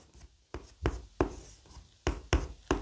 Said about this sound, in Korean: 쥐 모양을 이렇게 써요